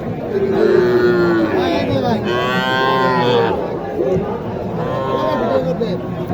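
Cattle at a bull-calf market in Naogaon give several loud, drawn-out moos over a busy crowd, with people talking and bargaining nearby.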